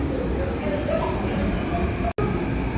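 A Korean subway train fills the car with a steady, loud rumble of wheels and motor from inside the moving carriage, broken for a split second by a brief dropout.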